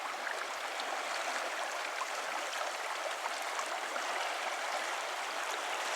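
A high river in Mongolia flowing steadily, a soft continuous hiss and rush of water at moderate distance, even throughout with no voices or other events.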